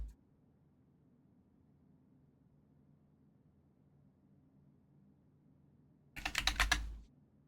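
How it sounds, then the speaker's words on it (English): A short, fast burst of typing on a computer keyboard, close and fairly loud, with a run of crisp key clicks lasting about a second after a long stretch of near silence. "God, can't even type properly."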